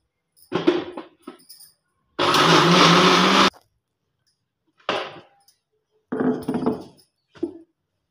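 A kitchen mixer grinder blending beetroot with added water, a short loud burst of motor whir just over a second long, surrounded by scattered clinks and knocks of jar and lid handling.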